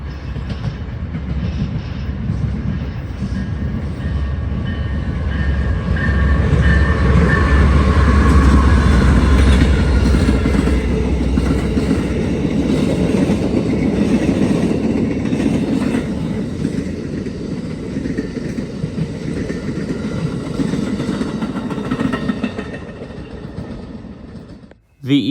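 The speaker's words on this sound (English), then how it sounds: "the Amtrak was coming and we knew it would be. And after a while, it did, with a Charger leading and a P42 trailing" An Amtrak passenger train rolls past on the mainline with a Charger locomotive leading and a P42 trailing, a loud, broad rumble of wheels and rail that swells, holds, then fades, with faint horn-like tones early on.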